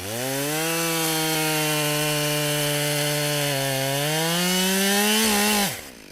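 A Husqvarna 572XP chainsaw with high chain speed runs loud and close, a sustained high whine that shifts pitch slightly as it works through wood, then drops off abruptly at the end.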